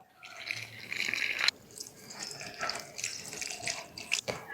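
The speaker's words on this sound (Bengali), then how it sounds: "ভালো করে মিশিয়ে নিয়ে এবার জল দেব।" Room-temperature water pours steadily into a bowl of flour seasoned with cumin and ajwain for dough, a continuous close splashing stream with a brief break partway through.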